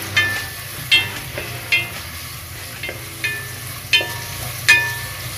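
Onions frying in a pan for pork paksiw, a soft steady sizzle broken by about seven sharp scraping stirs of a utensil against the metal, close and alone.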